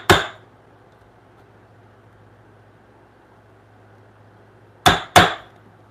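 A mallet strikes a chisel into wood: one sharp knock, a long quiet pause with a low hum, then two quick knocks close together, crisp and near.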